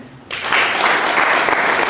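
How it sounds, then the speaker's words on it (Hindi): A seated audience at a Hindi-language seminar breaks into applause after a short quiet moment, the clapping starting abruptly and building into a loud, sustained, dense crowd sound. "तालियां।"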